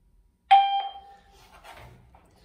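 An ERA-DCRX plug-in door chime rings two notes, bright and clear, then fades into a faint ringing tail with some quiet background noise.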